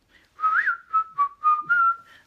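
A single person whistles a tune, a short melodic phrase of clear, steady notes in a rising and falling pattern, close and fairly loud with no talking.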